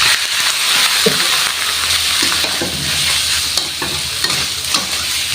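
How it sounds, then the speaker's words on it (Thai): Pork stir-fried with curry paste and torn kaffir lime leaves, loud and close: a steady hiss of frying under repeated scraping and stirring strokes of a spatula in the pan, with no speech. "ผัดหมูให้สุกก่อนนะครับ"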